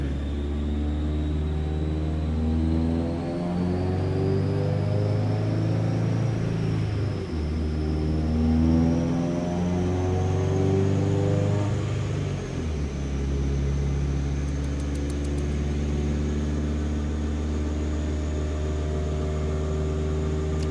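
A Woolman 2.5L engine runs on a dyno at an easy pace, a loud, steady droning hum with rising and falling harmonic pitch as load changes, no speech.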